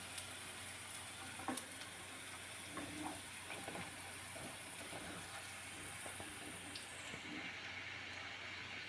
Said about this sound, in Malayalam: ഉള്ളി കുറച്ചൊന്ന് വഴന്ന് വരണേ, ഒരു ചെറിയൊരു കളർ, ഒരു ബ്രൗൺ കളർ